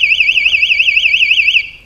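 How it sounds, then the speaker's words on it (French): A 125cc motorcycle's alarm wails in a loud, rapidly warbling electronic siren that cycles steadily, then cuts off abruptly near the end, with no voices. "l'alarme est efficace"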